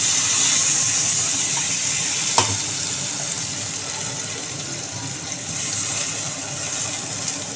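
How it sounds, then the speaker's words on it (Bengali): Water poured into a pan of fish, cauliflower and potato curry produces a steady broadband hiss and gush over the sizzle, with one sharp clink partway through. "ঠিক এই সময় আমি জল দিয়ে দেব।"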